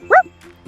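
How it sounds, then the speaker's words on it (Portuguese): A single short dog bark, close and fairly loud, followed by faint low background sounds. "E qual é o som do cachorro?"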